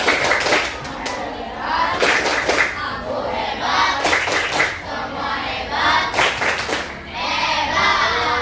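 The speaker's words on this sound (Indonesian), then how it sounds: "tepuk hebat" Children clap together in a patterned rhythmic cheer in a school classroom, with bursts of claps about every two seconds mixed with young voices chanting along, fairly close and loud.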